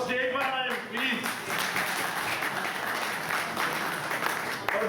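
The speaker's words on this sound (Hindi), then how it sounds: "डॉक्टर फानूल हक साहब के लिए तालियां लगाएं कि वो स्टेज पर आए प्लीज" Audience applause at a Pakistani community gathering in Greece as a guest is called up to the stage, a steady dense wash of clapping throughout, with a voice briefly heard at the start.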